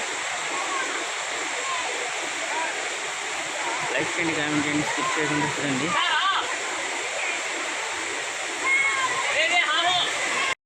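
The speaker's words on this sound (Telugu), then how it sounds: "కొండ పైన వచ్చేసి జలపాతం దూకుతాం చూడండి" A waterfall rushing down Udayagiri hill makes a continuous bright roar of falling water throughout, while someone talks over it nearly the whole time.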